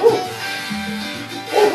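Small dog giving two short yips, one at the start and one at the end, close and fairly loud, with a quieter stretch of low murmuring between them.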